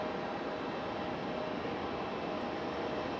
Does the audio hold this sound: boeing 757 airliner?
yes